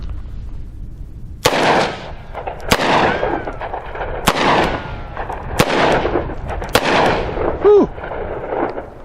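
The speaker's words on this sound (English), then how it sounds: "I will be shooting a 158 grain gold dot hollow point, and yes, these do have a little bit of recoil." A Smith & Wesson revolver fires 158 grain Gold Dot hollow points, five loud, sharp shots evenly spaced about a second and a half apart, each followed by a ringing decay, up close.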